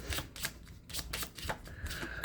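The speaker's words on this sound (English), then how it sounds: "let's grab a couple oracle cards for you" Oracle cards being handled and drawn from a deck, a quiet run of crisp slipping and flicking card sounds in irregular bursts, close and with no talk.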